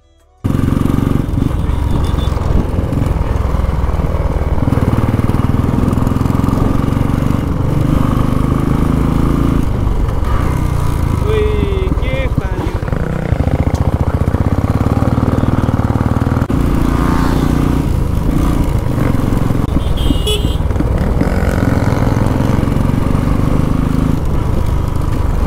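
Yamaha MT-15 motorcycle engine running nearby, a loud steady rumbling drone with shifts in pitch as it is revved and eased, continuing for about twenty-five seconds with occasional faint background voices.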